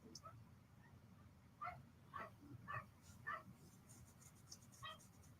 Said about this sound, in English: So if you hear dog barking in the background, that's what that is.